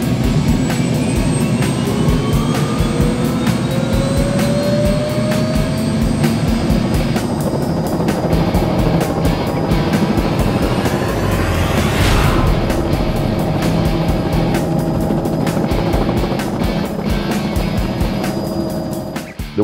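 A helicopter flying with its doors off during a hog hunt, a loud, steady rotor and engine roar with wind rush filling the whole stretch, with no talk.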